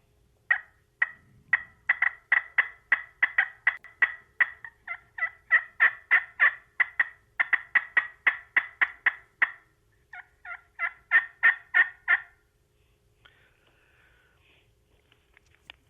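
A turkey hunting call works through a rapid run of sharp, excited hen yelps, about thirty evenly spaced notes, then a short pause and a few more yelps, loud and close with no talking over it; the call imitates a hen turkey.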